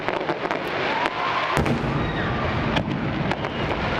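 Fireworks exploding at a Loyalist Day celebration in Saint John, New Brunswick, with continuous rumbling bursts and repeated sharp cracks and pops, loud and dense throughout. Faint crowd voices sit underneath.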